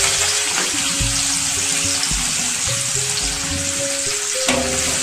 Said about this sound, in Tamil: இப்போ வந்து வெங்காயம் கட் பண்ணி வச்சுருக்க வெங்காயத்தை சேர்த்துப்போம்.